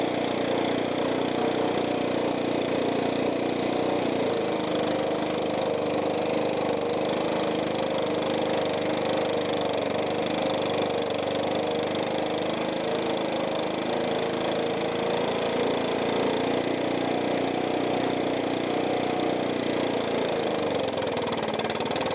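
A Stihl 4-Mix small engine runs steadily at idle during carburetor adjustment, a continuous buzzing drone close by with slight wavering in pitch, and no voices.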